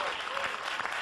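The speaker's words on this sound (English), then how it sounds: "Why are you clapping?" Brief, close burst of audience clapping at a conference session, dense and even throughout the second.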